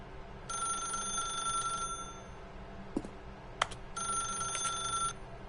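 A telephone in The Stanley Parable rings in two long bursts of bright, steady electronic bell tone with a short gap between them, plus a few sharp clicks in the pause over a quiet background.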